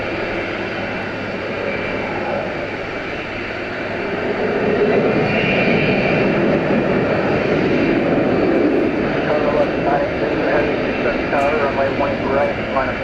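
An American Airlines jet rolls for takeoff at Dallas/Fort Worth airport, its engines building to a loud, sustained roar that swells midway and holds, with air traffic radio chatter running over the top.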